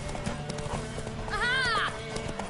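A mare gallops with quick, close clip-clop hoofbeats, and a sharp whinny rises briefly in the middle of the short burst.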